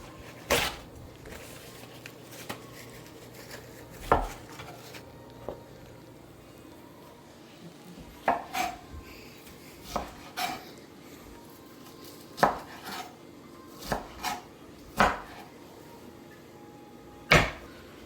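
Knife chopping chicken on a board, about a dozen sharp, separate knocks spread irregularly over the stretch, near and fairly quiet, with faint kitchen rustle between strikes.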